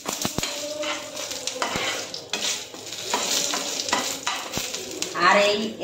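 A dried red chilli and a pinch of asafoetida fry in hot oil while a utensil stirs the pan, giving a bright sizzle broken by sharp metallic clicks and scrapes, close up and with no talking.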